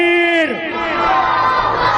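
Religious gathering crowd answering a Nara-e-Takbeer chant, a loud mass of voices shouting together right after a single leading call.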